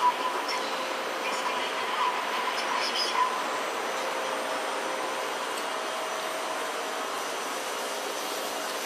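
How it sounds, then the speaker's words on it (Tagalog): A constant mechanical hum and hiss of a train at a station fills the air, steady and unchanging for several seconds, with faint high whines on top. "Ayan po, dito po ang sakayan ng tren."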